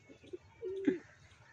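Pigeons in a village setting give a short low coo near the end, with faint chirpy bird sounds and soft background noise before it.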